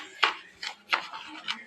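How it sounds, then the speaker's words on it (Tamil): Semolina roasting in oil in a pan, stirred with a utensil: four light, evenly spaced scraping strokes against the pan, close by and fairly quiet. "இன்னும் ரவை கொஞ்சம் நல்லா வறுத்துக்குங்க."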